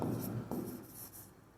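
Chalk or marker scratches across a classroom board in a few brief, faint strokes, alone without talk.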